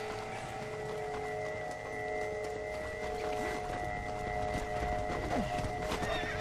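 A horse in the video game Red Dead Redemption: Undead Nightmare whinnies while hooves clip-clop, set against a steady droning background, fairly faint and mid-distance.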